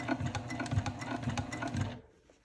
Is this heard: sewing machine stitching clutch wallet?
yes